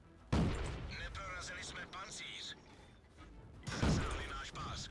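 Tank cannon shots in the online game World of Tanks, two heavy booming blasts a few seconds apart, each followed by a decaying rumble and clatter, with someone talking quietly throughout.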